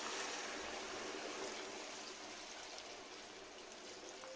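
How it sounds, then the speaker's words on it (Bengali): Hot water is poured into spicy potato curry (alur dum) as it finishes frying, a soft continuous trickling stream that fades slightly over a few seconds, faint and close with no talk. "আমি গরম জলটা দিয়ে দিচ্ছি।"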